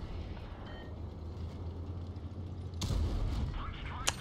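The cannon of a 50TP Prototype tank in the video game World of Tanks Blitz fires one heavy, sudden boom partway through, rising above a low, steady game-engine hum.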